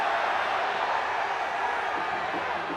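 Football crowd in a stadium during a Singapore versus Myanmar group-stage match reacts to a possible foul, a steady, dense roar of many voices filling the stands with no single voice standing out.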